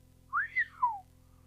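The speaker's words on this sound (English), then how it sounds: "The inspector whistled." A man gives a single sliding whistle of surprise in a quiet room, rising then falling in pitch over about a second, close and clear with no talk.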